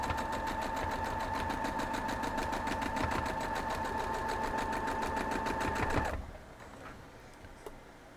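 Sewing machine stitching a wagon tracks quilt block, a rapid even needle chatter with a steady motor hum running for about six seconds before stopping, followed by faint handling clicks.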